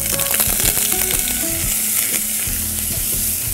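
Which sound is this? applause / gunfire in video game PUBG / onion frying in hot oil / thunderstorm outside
onion frying in hot oil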